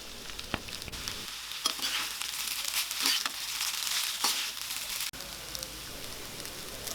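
Cooked rice for egg fried rice being gently stir-fried in a pan, a steady soft sizzle with scattered crackles and occasional scrapes, moderately quiet and continuous with no talking.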